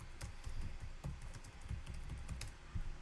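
Typing on a computer keyboard at a desk, a quick close run of clicking keystrokes and a few sharper key presses, steady throughout with no voice.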